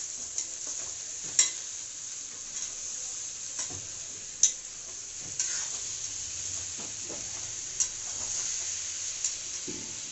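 Chicken sizzles quietly as it fries in a pan, while a utensil stirs it with occasional sharp taps and scrapes against the metal.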